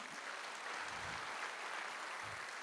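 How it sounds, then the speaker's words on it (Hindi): An audience claps at a Hindi-language speaking event, a steady, faint, even wash of applause heard alone without any voices. "रियल में मेरे गुरु के लिए दिल से ताली होनी चाहिए"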